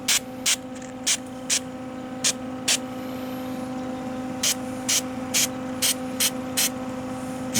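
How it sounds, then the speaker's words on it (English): Short bursts of weld-through primer sprayed from an aerosol can onto a ground-down rusted Trans Am panel, about a dozen brief hissing puffs in irregular rhythm, close up over a steady background hum. "I'm going to put a little weld through primer on it"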